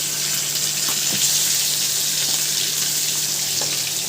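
Pieces of rohu fish frying in oil in a small pan on a village stove, a steady close, loud crackling sizzle that holds evenly throughout without speech.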